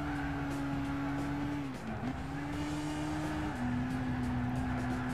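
Race car engine in Gran Turismo 6 during a National B mission race, a steady droning tone that dips briefly as the car brakes and shifts, then resumes its even whine.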